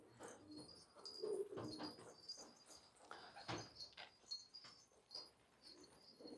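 Domestic pigeons cooing at a loft, a pigeon keeper's flock giving soft repeated throaty coos and fluttery calls, close and fairly quiet, with occasional chirps and no talk.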